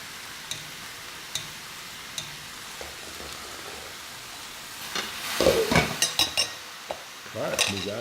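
Noodles being stir-fried with vegetables in a pan, with soft sizzling and clinks of a utensil against the pan, quiet at first, then a louder burst of stirring and scraping near the end.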